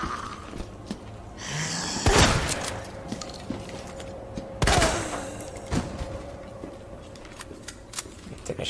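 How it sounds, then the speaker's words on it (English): Two heavy shotgun blasts boom a few seconds apart in Resident Evil 2 Remake, each loud and close with a short tail, over quiet ambient game sound and small scuffling effects. "Shotgun to the head."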